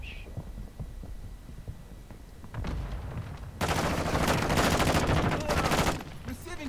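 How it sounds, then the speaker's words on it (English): Rapid gunfire and explosive bursts from a Call of Duty Warzone Resurgence match, loud bursts of shooting building to a dense volley in the middle, with faint game ambience before. "I hear a lot of shooting out there."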